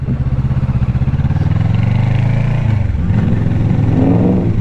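A loud motorcycle engine rumbles close by, its pitch rising as it revs then dropping as it passes, with steady throbbing exhaust pulses throughout.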